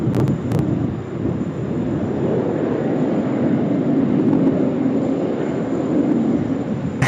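Qantas flight 7 airliner departing Sydney Airport, bound for Dallas Fort Worth, makes a steady, loud low roar with wind buffeting throughout, and no speech over it.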